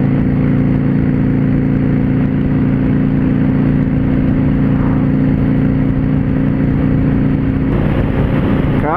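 Large cars pass on a road in Uruguay, heard from a motorcycle. A loud, continuous engine whir and low rumble fill the whole stretch and stay close and steady, with a slight shift near the end. No one speaks.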